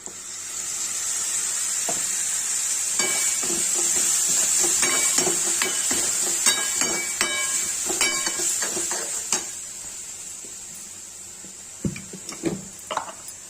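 Ground tomato paste frying in a pan for Kashmiri-style palak paneer, a steady close sizzle with intermittent stirring clinks and scrapes, growing busier midway before tapering to sparse taps.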